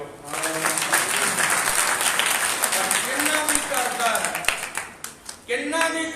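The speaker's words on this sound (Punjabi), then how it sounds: "ਤਾਲੀਆਂ ਦਿਓ।" A village church congregation in Punjab claps together, a broad, dense burst of hand clapping that swells and persists, with a voice speaking over it in places.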